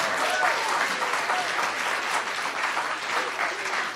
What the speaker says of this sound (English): just had an entire audience of people applaud you on this subject